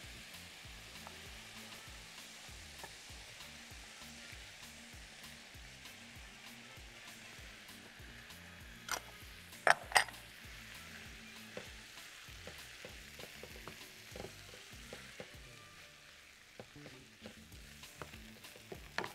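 Potato pieces fry in hot oil in a home kitchen pan, a steady dense sizzle running throughout with a couple of louder crackling pops near the middle.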